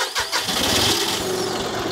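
A tractor engine cranks and catches with a few sputters, then settles into a loud, close, steady running rumble, with no talking.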